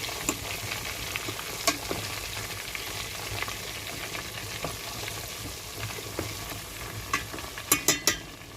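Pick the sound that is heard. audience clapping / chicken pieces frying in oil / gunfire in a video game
chicken pieces frying in oil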